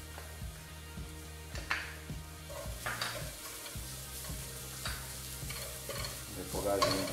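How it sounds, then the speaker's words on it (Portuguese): Three cloves of chopped garlic and onion sautéing in a pan, with a soft sizzle and repeated stirring scrapes throughout. The cooking sounds close and quiet, with no talk. "Vamos entrar com 3 dentes de alho picadinho. Dar uma refogada nesse alho também."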